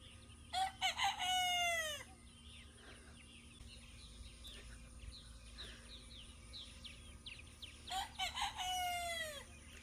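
Roosters crow twice, loud and near, at the start and end, with chickens clucking and chattering steadily between them inside a new coop.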